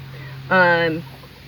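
A single chicken on a farm lets out one short, tonal cluck-like call, close and clear over quiet background hum.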